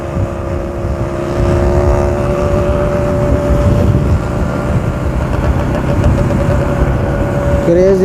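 A steady, loud engine drone runs throughout, like motorcycles cruising close by on a group ride from Kundapura to Agumbe, with a rising whine near the end and faint voices underneath.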